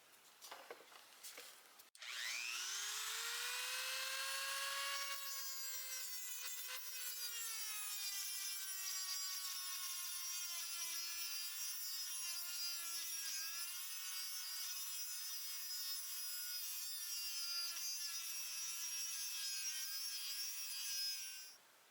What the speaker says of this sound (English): I've got the speed set pretty high, up above 5 there.